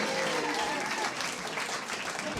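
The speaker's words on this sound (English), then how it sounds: "Y'all go ahead and start clapping." Audience applause at a live comedy roast battle, steady dense clapping throughout, moderately loud and continuous with a faint murmur of voices beneath.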